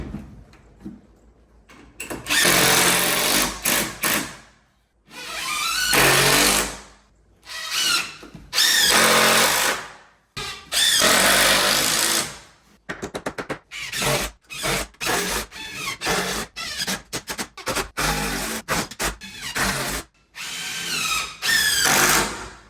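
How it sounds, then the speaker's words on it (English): A power drill driving K9 Doberman screws to fasten wall framing over new subfloor, loud and close, in long whirring bursts at first, then quicker short pulses with brief gaps between. "I'm screwing all this back together. I'm using K9 fasteners."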